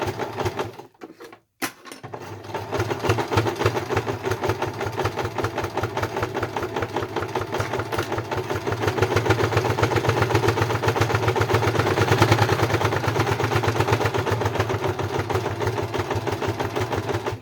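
Sewing machine zigzag stitching through an oven mitt, a steady fast mechanical whir with a rapid needle rhythm running continuously after a brief pause at the start, close and prominent.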